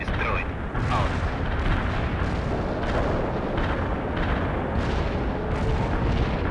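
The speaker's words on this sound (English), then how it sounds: "Artillery strike is inbound. Avoid the strike area." An artillery strike rumbles in the World in Conflict video game, a dense continuous roar of booming blasts that rolls on loud and unbroken, while a voice speaks over it.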